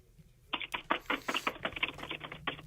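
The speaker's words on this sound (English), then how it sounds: "That's actually intern Brett typing away on the keyboard as he prepares to write a 3-page paper" Rapid typing on a computer keyboard, a quick irregular run of crisp key clicks, close and fairly quiet, with no talk over it.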